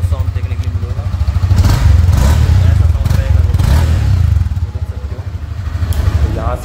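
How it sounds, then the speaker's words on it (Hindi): A 2024 Honda CB300F motorcycle exhaust rumbles steadily up close, a deep throbbing idle with slight rises in revs, loud and continuous throughout. "यहाँ पर आपको एग्जॉस्ट साउंड देखने के लिए मिलेगा"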